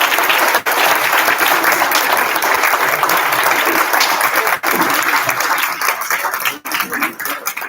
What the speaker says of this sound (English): So again, let's give them a big round of applause.